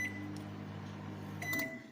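A microwave oven is set and switched on while heating food, giving a couple of short electronic beeps over a steady low appliance hum.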